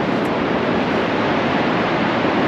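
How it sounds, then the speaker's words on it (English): A gorge waterfall in a mountain river setting gives a constant, even roar of rushing water, broadband and unbroken, loud and close with no voices. "You see the waterfall?"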